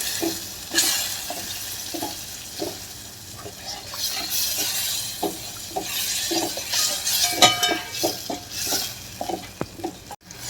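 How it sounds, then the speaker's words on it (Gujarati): Tempering for a traditional Gujarati dal, made with tamarind pulp and jaggery, boils over a low flame. Soft sizzling and bubbling run under repeated spoon scrapes and clinks against the pot. "આ આપણો વઘાર ઉકળી ગયો છે"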